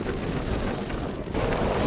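Wind blows at Dhumba Lake near Jomsom in Mustang, a brief, steady rush of broadband gusting close to the microphone with no voices.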